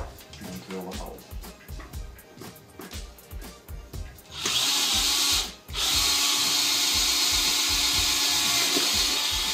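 A power drill bores a hole during a DIY build of an ant and termite enclosure, starting after a few seconds of soft rustling and knocking, then whirring loud and steady at close range with one brief pause.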